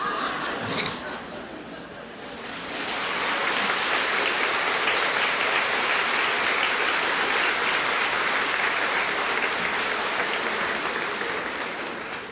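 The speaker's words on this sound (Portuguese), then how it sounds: "Eu falei por falar, mas não precisava também ser um aplauso tão fraco." An audience at a spiritual seminar breaks into sustained applause that swells after a brief pause and holds steadily, with some laughter and chatter at the start.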